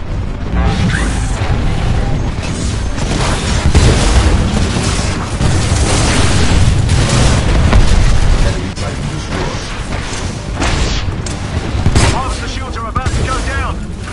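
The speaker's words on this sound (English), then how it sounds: "The harvester's getting barraged by mortar Titans." Heavy artillery barrage from mortar Titans pounding the harvester in Titanfall 2, a dense continuous roar of booms and blasts with bursts of gunfire, under game voice announcements.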